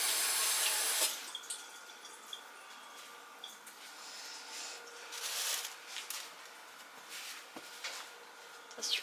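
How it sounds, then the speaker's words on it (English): Running tap water splashes steadily as hands are rinsed under a kitchen faucet, a close, continuous hiss with small fluctuations and occasional clinks. "Just rinsed my hands really quick."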